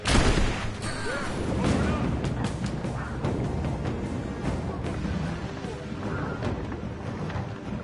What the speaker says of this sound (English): You're just hearing explosions left and right